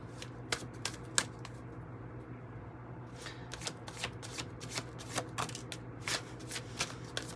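Tarot cards being shuffled, a run of crisp riffles and flicks in irregular bursts, close and fairly quiet over a low steady hum.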